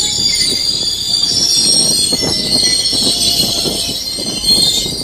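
Train brakes squealing on the wheels: a loud, continuous high-pitched metallic screech over rumbling rail noise and faint wheel clatter, sustained throughout.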